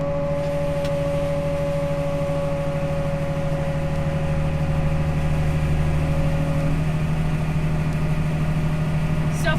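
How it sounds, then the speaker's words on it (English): A tractor and grain cart unload corn into a trailer during an Ohio corn harvest, giving a constant loud engine and machinery drone with a steady tonal hum throughout. "And now we're unloading from the grain cart into the trailer."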